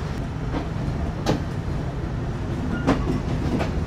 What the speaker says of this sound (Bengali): আমরা ছেড়ে যাচ্ছি কোটচাঁদপুর রেলওয়ে স্টেশন